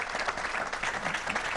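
A studio audience on a televised discussion about ragging breaks into hearty applause, a steady wash of many clapping hands throughout.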